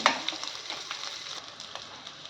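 Onions, green chillies and curry leaves fry in a pan, giving a soft, steady crackling sizzle with small pops, heard close and fairly faint without any voices.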